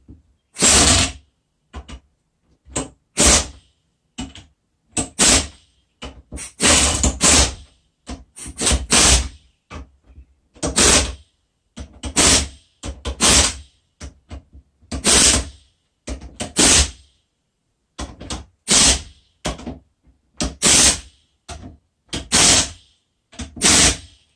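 An impact gun running in reverse to remove the ring gear from a Yukon Grizzly locker, loud rattling hammer bursts of one to two seconds repeated many times with short silent gaps between.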